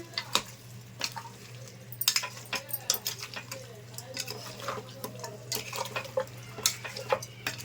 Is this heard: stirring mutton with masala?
yes